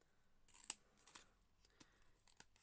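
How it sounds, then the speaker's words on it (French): Scissors snipping through material, a few sharp close snips scattered over a quiet background, no talking. "Je prends un ciseau et je viens à peu près couper là"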